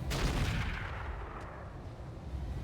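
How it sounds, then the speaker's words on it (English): Mech weapons fire in the RogueTech mod of the BattleTech video game, a loud sustained volley of heavy booming impacts and rumbling blasts that fills the clip, with no talk over it. "And we're just going to fire on the Executioner."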